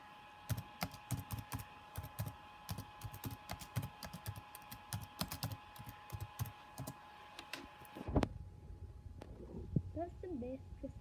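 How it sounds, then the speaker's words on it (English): Rapid, uneven keystrokes clatter on a computer keyboard for about eight seconds, close and fairly quiet, then give way to softer background noise with a couple of stray clicks. "I'm literally gonna type that."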